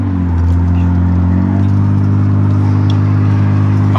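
BMW E36 328i engine droning steadily while cruising, a loud continuous low hum with a smooth, even tone and slight rise in pitch, heard from inside the car with no talking.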